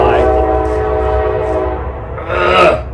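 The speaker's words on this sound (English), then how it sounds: "Damn trains." A passing train sounds its horn up close: a loud, sustained, chord-like blast that fades slightly, then swells again with rumbling rail noise beneath.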